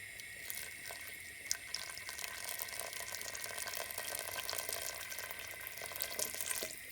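Hot tap water pours steadily over rice in a cooking pot, a continuous faint rushing splash that runs alone throughout.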